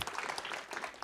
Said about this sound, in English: One more big round of applause to kind of wrap up this phase of everything.